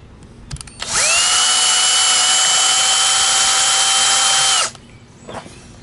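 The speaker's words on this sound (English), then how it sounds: "Now I'm going to use the starter holes to drill holes straight through to the stud" A power drill runs steadily for nearly four seconds, boring starter holes into a wall stud during a Craftsman VersaTrack installation, loud and close, with brief handling clicks before and after.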